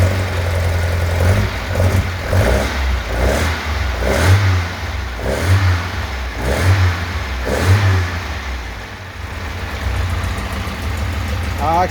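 A 1972 Alfa Romeo Giulia 1300 Junior engine on a standard air filter runs and revs in repeated surges, rising and falling roughly every second, loud and close, with a voice briefly heard over it.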